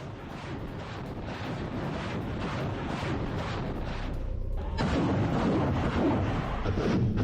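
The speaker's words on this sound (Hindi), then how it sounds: "ग्रैड मिसाइल से ताबड़तोड़ हमले।" Grad rocket artillery strikes in the Russia-Ukraine war: a dense, continuous roar of rumbling launches and blasts with wind buffeting the microphone, briefly dropping near the middle before surging louder again.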